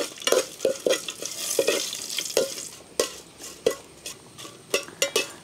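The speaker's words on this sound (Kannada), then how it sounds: "ಉದ್ದಿನ ಬೇಳೆ ಮೆಣಸೆಲ್ಲ ಹುರಿದಾಯ್ತು ನೋಡಿ." Urad dal and chillies fry in hot oil in a pan for a crackling sizzle broken by repeated stirring scrapes and spoon clacks against the metal, close and lively with no talking.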